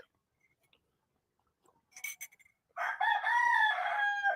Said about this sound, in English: I'm being attacked by a chicken.